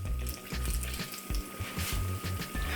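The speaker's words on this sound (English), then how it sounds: "when I'm frying banana fritters" Banana fritters frying in hot oil for a Jamaican recipe, a steady close sizzle and bubbling crackle with soft low clatters throughout.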